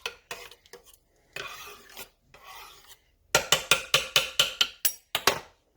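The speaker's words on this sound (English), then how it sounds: "Let's stir that parsley in there." Spoon stirring parsley through a pot of potato cheese soup with cream cheese and milk, giving soft scraping rubs, then a quick run of about nine sharp, rhythmic scrapes against the pot, close and alone.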